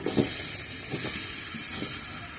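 Potatoes go into spices frying in a pan over an outdoor wood fire on a rooftop garden, a steady hiss with a few soft stirring thumps near the start and middle.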